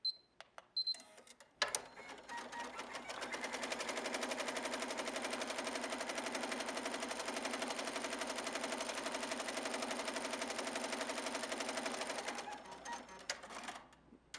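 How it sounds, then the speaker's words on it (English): A HappyJapan embroidery machine stitches a garment with a steady, fast mechanical chatter, close and continuous for about ten seconds, then it slows into a few separate clacks as it stops. "Notice that the machine, when it's done with the color, should stop, cut the thread, and then move to the next section."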